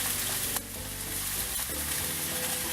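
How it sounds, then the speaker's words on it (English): Beef cubes sear in a hot skillet with a steady, close sizzle and crackle that fills the whole stretch, with no talking over it. "let's move our meat into the skillet. We want to sear this, meaning to put a good, nice browning on the outside of it."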